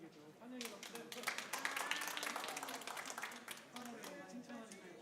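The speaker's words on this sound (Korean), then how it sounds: "오랜만에 얼굴 비춰진 우리 주찬이에게도 환영의 박수." Welcoming applause from a church congregation during a Sunday service, a dense wash of many hands clapping at moderate distance, steady for several seconds with faint voices mixed in.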